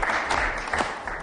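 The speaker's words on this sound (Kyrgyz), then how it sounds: "Бир кол чаап коюңуздар." A studio audience at a television show breaks into applause, a loud, fairly dense patter of clapping hands with a few sharper accents across a short burst.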